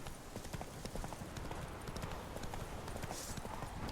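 Roach, the horse in The Witcher 3, gallops in a fast, steady clip-clop of hooves, close and continuous under game ambience.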